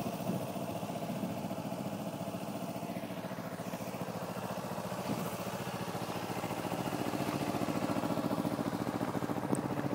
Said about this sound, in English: the beautiful 2009 Kawasaki Ninja 250R.